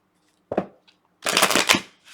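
A short riffle of tarot cards, then a longer, louder burst of shuffling, close and crisp with no talking.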